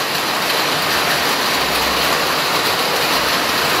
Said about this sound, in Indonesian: Ini pas hujan sangat deras ya Bunda, tiap hari di sini tuh hujan.